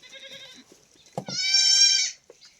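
Young goats bleat several times at close range, first a softer wavering call and then a loud, sustained cry, with brief handling noises between them and no talking.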